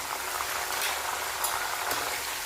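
Salted turmeric water hits frying jackfruit pieces in hot oil, producing a dense, continuous bubbling hiss that stays even and fairly close with faint stirring bumps.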